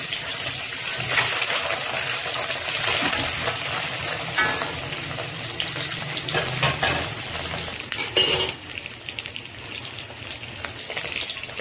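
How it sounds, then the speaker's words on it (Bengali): Eggs fry in a pan with a loud, continuous hiss of hot oil, joined by stirring and scraping sounds that swell and fade close by throughout. "ডিমগুলো ভাজা হয়ে গেছে, আমি তুলে নিচ্ছি।"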